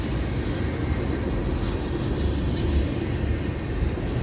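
An FEC freight train rolls past at night, its lead locomotive hauling a string of ethanol tank cars, giving a steady, close rumble of low-end wheel and engine noise with no break across the whole stretch.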